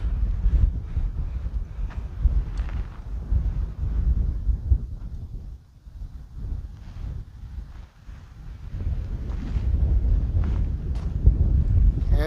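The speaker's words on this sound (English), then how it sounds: "And it's very windy, which I like." Gusty desert wind at night batters the microphone with loud low rumbling, dropping briefly in a couple of lulls before blowing hard again.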